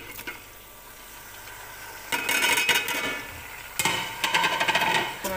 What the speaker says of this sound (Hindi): अब हम इसमें टमाटर डालेंगे।